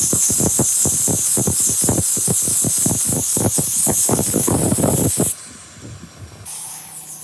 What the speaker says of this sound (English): So I'm going to spray it with a little bit of detergent.